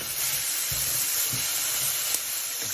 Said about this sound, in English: Then dump in your tofu, dumping your fried tofu back in.